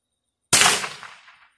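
A single regular ammunition round fires, a sharp close crack that rings out and decays over about a second after brief silence, with no talk.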